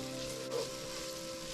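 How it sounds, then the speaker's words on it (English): Ground spices, turmeric, nutmeg, mace and chili flakes fry in a pan for chicken biryani, giving a steady, soft sizzle throughout with no talking. "Cook this until all the spices are fully cooked and you can't smell any raw spices."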